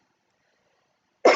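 A single short cough bursts out abruptly after near silence, loud and close, alone with no talking.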